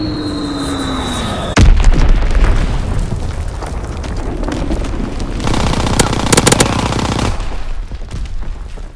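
A bombing run with six bombs in a video game: a sharp blast followed by rumbling explosions and clusters of gunfire, loud and dense, layered over constant battlefield noise and a fading tone.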